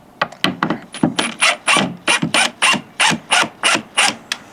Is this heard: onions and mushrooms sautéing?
no